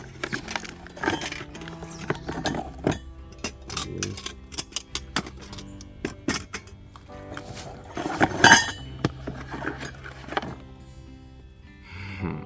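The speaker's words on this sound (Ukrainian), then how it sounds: "Посуда для кемпінгу." Metal camping cookware set clinks and clatters repeatedly, light pans and cups knocking together in irregular bursts, close by with no talking.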